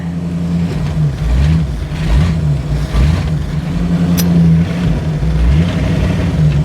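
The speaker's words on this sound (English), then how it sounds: "So I'm going to turn the engine off." A Sunbeam Tiger barn-find car's engine runs loud and close while driving in gear, a steady low rumble with slight rising and falling revs throughout.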